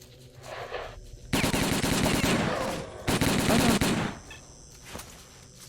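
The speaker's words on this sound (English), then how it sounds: "we're taking heavy fire from an unidentified enemy" Heavy gunfire from an unidentified enemy in the video game S.T.A.L.K.E.R.: Call of Pripyat, with two loud sustained bursts of rapid automatic shots separated by a brief pause, then a few scattered single shots.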